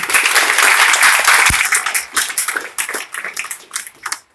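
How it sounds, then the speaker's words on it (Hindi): Loud audience applause in a lecture hall for a speaker, dense clapping at first that thins into scattered claps and fades out over a few seconds, with a single sharp thump partway through. "सर के लिए एक बार जोरदार फिर तालियां।"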